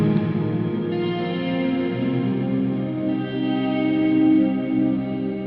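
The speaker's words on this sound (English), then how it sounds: "Massive reverb." Guitar run through a MOD Dwarf pedal with a massive reverb, sustained chords washing and smearing into a dense, lingering tail that swells steadily with no voices.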